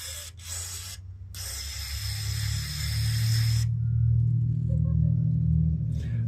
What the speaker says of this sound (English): you want to spray carb cleaner in there and make sure they're all flowing